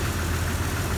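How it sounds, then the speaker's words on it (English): A 2002 Jeep Wrangler TJ engine idles with a knocking fault, giving a dense, steady, close mechanical rumble that fills the whole moment without talk. "I can still hear the knocking though."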